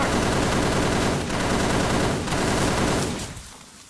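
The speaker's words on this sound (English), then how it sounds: "Wait, they're firing again." Sustained automatic gunfire from a wartime battle rattles loud and continuous for several seconds, then fades out abruptly near the end with no talking.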